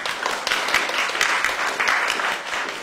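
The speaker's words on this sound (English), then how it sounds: "so just give a round of applause to our speakers" An audience applauds panel speakers at a talk on early intervention for children: a brisk, continuous patter of many hands clapping, fairly loud and even throughout, with no speech over it.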